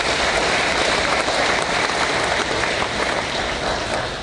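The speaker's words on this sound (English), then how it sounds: "Please give them a round of applause." A village audience applauds staff at the Romeoville State of the Village address. The clapping is steady and dense, like rain, and lasts the whole stretch, easing slightly at the end.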